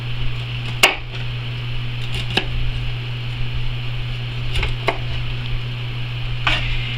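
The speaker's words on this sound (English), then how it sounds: "I'm going to cut them off at the tops here to separate it from the main stem" Vegetable tops cut off the main stem with a knife on a cutting board in a home kitchen, a few sharp separate chops spaced out over a steady background hum.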